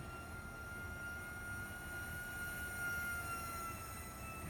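A steady, high-pitched jet-like whine with a constant hum underneath from an F-15 electric ducted fan model jet in the RealFlight 9 flight simulator, running at a sustained speed.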